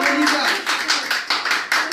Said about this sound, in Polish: Brawa dla dzieci!